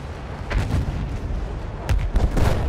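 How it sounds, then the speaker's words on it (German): Battlefield 1 artillery fire booms in heavy, rumbling bursts, with a cluster of blasts early on and another volley of thuds near the end, loud and close over a constant low battlefield roar. "Da ist die Artillerie."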